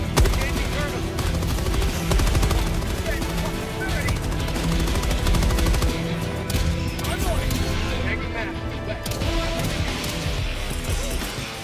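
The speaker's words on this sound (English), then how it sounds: "I kind of like being the resident machine gunner in the team." Sustained machine gun fire in the Helldivers 2 game rattles out in long, dense bursts of rapid shots, loud and close, with explosions and other gunfire mixed in and voices talking over the din.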